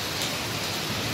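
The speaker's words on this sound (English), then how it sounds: "It is the second day of rain." Steady rain falling on a rainy day, a continuous broadband hiss with dense patter of drops, moderately loud and unbroken throughout, with no voices.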